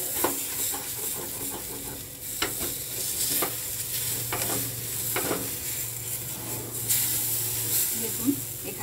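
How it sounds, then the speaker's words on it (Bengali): Chana dal frying in a hot pan while it is stirred, with a steady close sizzle and repeated scraping strokes of the spoon throughout. "ভেজে নিলাম ডালটা, ভালো করে ভেজে নিয়েছি।"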